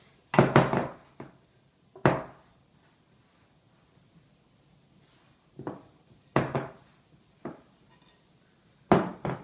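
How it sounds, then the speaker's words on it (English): Focaccia dough is kneaded by hand on a work surface, giving a run of soft, close thumps and slaps in irregular bursts, separated by quiet pauses. "Okay, so just kneading it"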